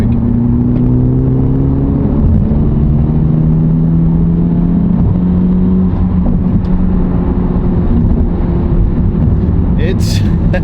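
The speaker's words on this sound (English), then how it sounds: "let's see what wide open throttle sounds like" Honda Civic Type R fitted with an aftermarket downpipe accelerating at wide-open throttle onto a freeway, heard from inside the cabin as a loud, steady engine drone that climbs in pitch through the gears.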